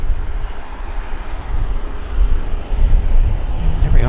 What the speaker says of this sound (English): in the background, we've got our Saab 340 taxiing in the hybrid colors